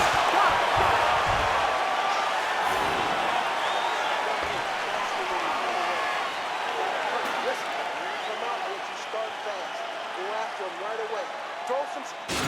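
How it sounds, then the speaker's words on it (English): A UFC arena crowd cheers and applauds steadily after a round of the Kamaru Usman versus Jorge Masvidal fight, a broad sustained roar with scattered claps and a few thuds, heard under commentators talking. "the crowd voicing its appreciation after that round"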